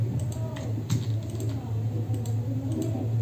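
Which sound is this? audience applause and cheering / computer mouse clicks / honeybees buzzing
computer mouse clicks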